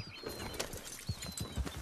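Wild horse hooves in Red Dead Redemption 2, a handful of soft clip-clop footfalls at moderate distance over ambient game sound.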